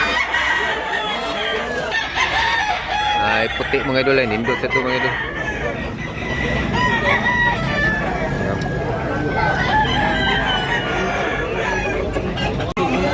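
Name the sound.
rooster crowing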